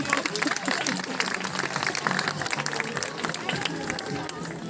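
At the Toulouse zoo, a crowd applauds the sea lion Cléo's show with steady, dense clapping from many hands, loud and continuous throughout, with voices mixed in.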